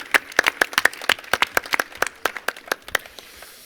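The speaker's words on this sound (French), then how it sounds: "un tonnerre d'applaudissements" Applause at a French entrepreneurs' show greeting Sarvec Conseil, an accounting firm: crisp, distinct handclaps in a quick, uneven rhythm, a small group rather than a dense roar, with no talking over them.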